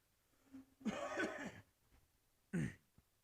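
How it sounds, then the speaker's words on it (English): Two harsh, close coughs, the first a longer rasping burst and the second a short sharp one, with quiet gaps around them. "I'm still coughing up a little bit."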